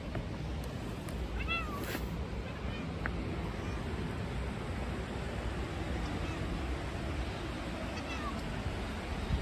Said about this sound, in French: Vas-y, mon petit chat, va.